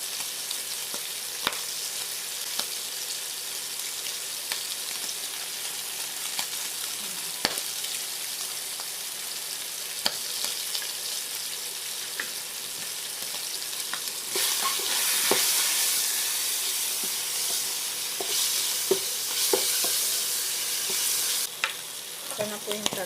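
Eggplant frying in hot oil, a dense steady sizzle with scattered sharp pops and spatters that swell louder toward the end, no talk.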